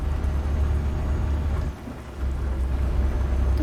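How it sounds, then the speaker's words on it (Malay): Heavy rain pours steadily while thunder rumbles low and loud, heard from a truck driving in Euro Truck Simulator 2, with a brief dip partway through before the downpour returns. "Okey, hujan. Saya tak suka kalau drive masa hujan ni"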